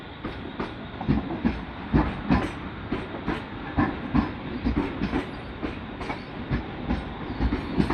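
A late-night Mumbai local train from CSMT toward Kasara rattles along, heard from inside with a steady rhythmic clickety-clack of wheels over rail joints and a constant rumbling hum, loud and close.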